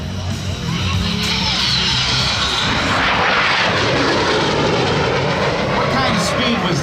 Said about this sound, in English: as it approaches from the left, another high-speed pass.